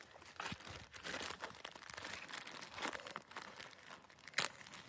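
A plastic bag crinkles and rustles in steady close-up handling while a box of matches is packed at a hiking camp, with a sharper crunch near the end.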